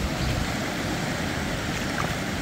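A rising river rushes past in a steady, broadband wash of flowing water, continuous and fairly close, with no voices over it.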